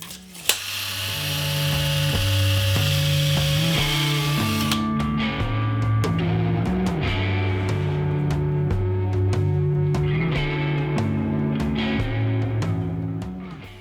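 A power drill bores and countersinks holes in wood for mid-century modern end tables, its whining motor repeatedly rising and dropping in pitch as it runs in bursts, with light clicks between passes.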